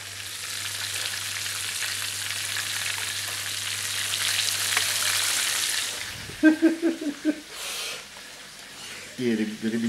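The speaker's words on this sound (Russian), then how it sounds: "у меня котлеты жарятся" Steady hiss and sizzle of meat patties frying in a pan, close, fading out near the end as a voice begins talking.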